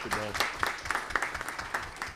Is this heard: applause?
yes